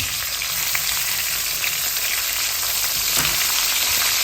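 Two tomatoes frying in a pan, a loud, close, continuous sizzle with crackling bursts throughout.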